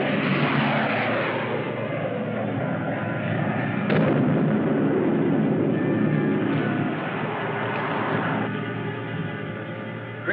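Spaceship cannon fire in a 1954 sci-fi adventure film: a dense, roaring barrage of blasts with sharp bursts near four and eight seconds, loud and continuous throughout, with no voices.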